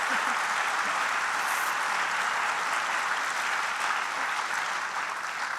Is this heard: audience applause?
yes